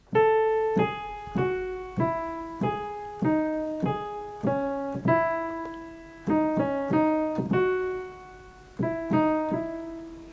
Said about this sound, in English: This is another organ piece.